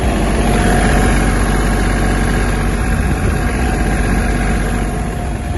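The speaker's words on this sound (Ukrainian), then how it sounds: "Вихлоп у трактора також чесний." A Japanese Kubota T-22 mini tractor engine idles steadily and loudly up close, its exhaust giving an even, continuous rumble with no speech.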